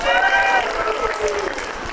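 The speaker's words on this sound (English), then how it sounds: "Let's give them a round of applause." A conference audience at a democracy summit gives a round of applause, a burst of clapping that starts strong and thins slightly, with a voice or tonal sound briefly overlapping near the start.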